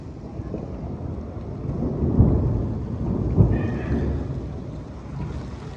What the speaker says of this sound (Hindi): वो देख रहे हो बादल गरज रहे हैं अपना।